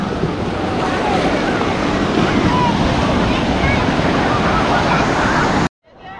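Sea waves break and wash onto the beach at Ganpatipule in a loud, continuous surf roar mixed with strong wind buffeting, cutting out abruptly near the end.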